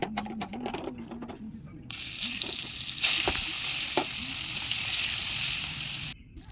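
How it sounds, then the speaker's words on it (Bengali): Bitter gourd pieces frying in hot oil give a loud, steady sizzle that swells partway through and runs alone, with a few stirring clinks at the start and no talking. "এখন উচ্ছেগুলো ভেজে নেব।"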